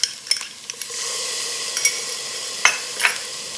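Ginger stirred and sizzling in a hot pan while making roasted bell pepper soup, a steady soft frying hiss with a few scraping utensil clicks, close and alone without talk.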